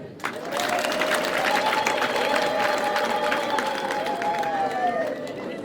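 A crowd ululates in celebration at a feast day honouring the patron saint Peter of the Nkomba community. High trilling voices ring out close and loud over continuous crowd noise and clapping.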